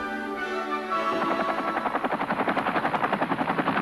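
A helicopter's engine whine builds, then its rotor blades thump in a rapid, steady rhythm, loud and close.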